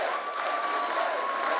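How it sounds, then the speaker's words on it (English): An esports arena crowd at IEM Katowice applauds and cheers, a dense wash of clapping heard briefly from a distance with a steady tone running beneath it. "So all of Poland, all of Katowice standing for cheers, for a round of applause for Jankos."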